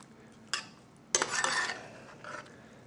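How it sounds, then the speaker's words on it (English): Spicy tomatoes get stirred into food in a pot: a short scrape, then a longer scraping stroke and one more quiet scrape, close and otherwise quiet. "Stir that up real good while we're going."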